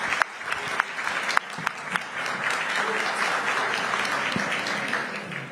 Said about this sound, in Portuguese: pedir uma salva de palmas para a Mel